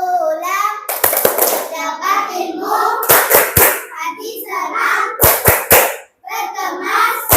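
Children in a classroom clap their hands in quick bursts of sharp, rhythmic claps, set between stretches of chanting and speaking voices.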